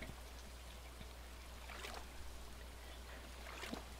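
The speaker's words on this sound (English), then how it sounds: "Nothing like standing in the rain with a fishing pole, getting soaking wet." Soft steady rain falling in the video game Stardew Valley, a faint continuous patter over a low hum, with a couple of brief splashy swishes and no voices.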